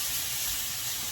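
A pot of water heats toward a boil on the stove for canning Boston baked beans, giving a steady, even hiss and faint simmering rush with no voices.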